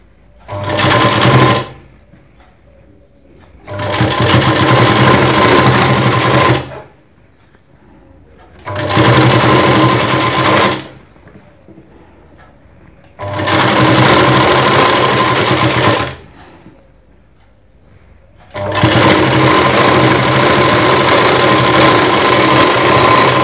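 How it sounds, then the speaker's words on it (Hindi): An electric sewing machine stitches a Rajputi blouse in five loud, steady bursts of running motor and needle chatter separated by short quiet pauses. "इसके ऊपर जस्ट ऊपर हमें सिलाई लगानी है।"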